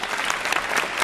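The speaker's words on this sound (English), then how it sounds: "you should give yourselves a round of applause for being here" A short burst of steady audience applause, dense clapping from many hands throughout, with no talking.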